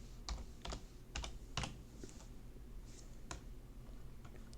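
Quick bursts of keystrokes on a computer keyboard while typing into the Windows Start search, clustered clicks near and fairly quiet with short pauses between them.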